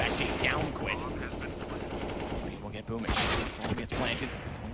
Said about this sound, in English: Lovely shots from Jinhua.